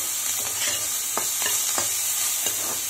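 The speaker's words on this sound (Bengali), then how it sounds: "এখানে পেঁয়াজ কলি আলু ভাজা বসিয়ে দিয়েছি" Onion stalks and potatoes sizzle in a frying pan, a constant close hiss broken by a few sharp stirring clinks and scrapes, with no voices.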